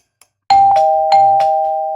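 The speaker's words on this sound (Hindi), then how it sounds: "सीधा डोरबेल बजा दी" A two-tone doorbell chime at the front door of a house rings loud and close, sounding a couple of times in quick succession with a lingering ring.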